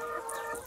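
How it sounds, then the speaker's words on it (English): Chickens on a poultry farm cluck and murmur in a brief, steady, moderately close burst with no talk. "It's very easy to manage the chicken."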